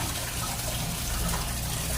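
Water steadily poured from a watering can over a dog during a bath: a continuous close gush of running, splashing water, even and fairly loud throughout, no talk.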